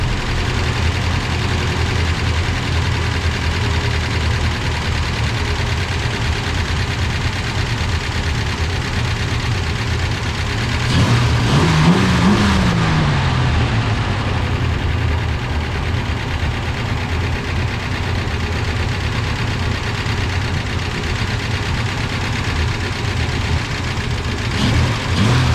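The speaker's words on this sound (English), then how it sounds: "Yeah, let me see if I can idle that thing down a bit." A vehicle engine idles steadily and close by, a continuous low rumble that shifts briefly partway through before settling back to an even idle.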